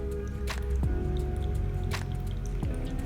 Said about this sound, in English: we're just going to start plunging really slowly,